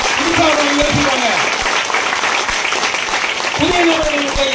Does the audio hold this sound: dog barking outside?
no